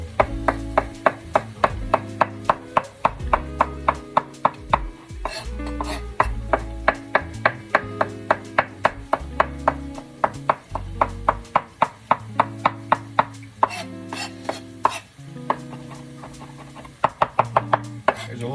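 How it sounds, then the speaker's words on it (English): A knife chops fresh basil on a cutting board in a brisk, steady run of sharp taps over several seconds, under recurring low music notes. "I'm chopping my basil on my board"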